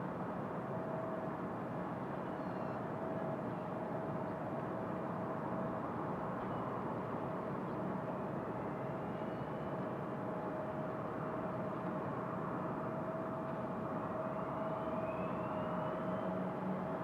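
Air Wisconsin airliner moving at Raleigh-Durham airport, a distant steady jet engine drone with a faint constant whine holding level throughout, no talk.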